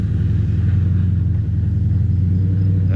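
Chevy Silverado pickup truck driving slowly on bad roads, a loud, steady low engine rumble with a pulsing drone heard from inside the cab, continuous and without talk.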